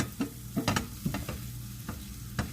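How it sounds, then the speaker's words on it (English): Zucchini cooks in a pan with leftover butter and garlic, giving a soft sizzle broken by a few sharp scrapes and stirring knocks. "So I left some of the butter and garlic in the pan so that I can go on and cook the zucchini."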